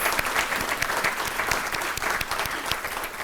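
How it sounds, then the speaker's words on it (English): An audience applauds graduates at the Scale Up Milwaukee 2019 Celebration of Growth, a continuous, full round of clapping from many people with a faint crowd murmur underneath. "let's give another round of applause to all of our graduates"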